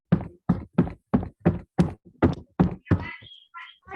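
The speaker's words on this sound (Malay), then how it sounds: "Ada orang ketuk-ketuk," Someone knocks on a door with about nine evenly spaced, sharp, close raps, followed by a brief scraping sound at the end.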